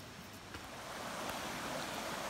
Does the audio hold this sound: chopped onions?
no